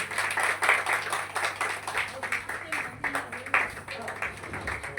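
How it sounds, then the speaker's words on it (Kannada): Audience applause at a stage event honoring a singer with a memento, a steady crowd of clapping hands with busy overlapping claps, under a low hum, no clear speech. "ಜೋರಾದ ಚಪ್ಪಾಳೆ ಬರಲಿ ಪ್ಲೀಸ್."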